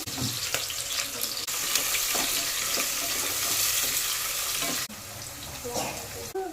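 Onions and green chillies fry in hot oil with a loud, close, continuous sizzle, broken by scraping stirring strokes and a brief drop in volume partway through.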